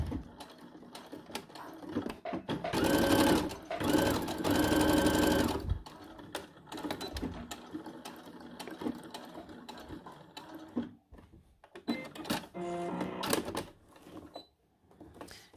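A sewing machine stitches along a bra edge using a zipper foot, running in loud whirring bursts with pauses between, plus small mechanical clicks and fabric handling nearby.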